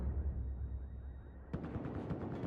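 Gunfire in Battlefield 4 erupts after a low rumbling lead-in, a rapid burst of sharp, close shots repeating in quick succession for the final second.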